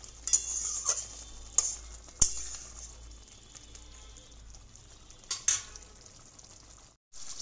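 Pabda fish curry in a mustard and poppy seed paste bubbling gently in a pan, a low steady sizzle with a few sharp clinks of a spoon against the pan rim, close and quiet with no talk.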